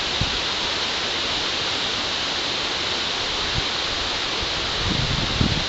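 A waterfall on a creek along a wooded trail rushes as a dense, steady roar, loud and close, with a few faint low thumps near the end.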